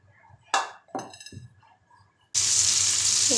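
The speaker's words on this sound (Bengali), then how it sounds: "এই তো চিকেনগুলোকে এখন ফ্রাই করছি।" Chicken pieces coated in flour drop into hot oil. A few clinks and knocks come first, then a sudden loud, steady sizzle of frying that continues to the end.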